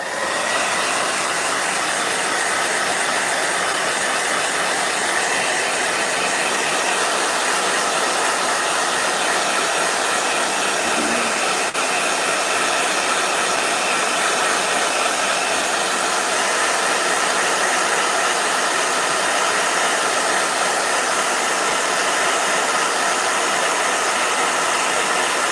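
A handheld hair blow dryer runs continuously and loud with a steady, broadband whoosh, unchanging and uninterrupted throughout, heard on its own with no talking.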